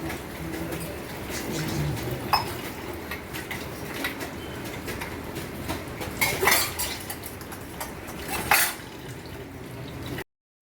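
Dishes being washed at home, with cutlery and pots clinking and clattering in scattered bursts over a steady background hiss of running water, and faint bird cooing in the distance.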